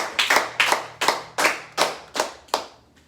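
An audience at a political sermon in the DRC bursts into applause, with crisp, close hand claps coming in an uneven series of about eight bursts, each fading quickly.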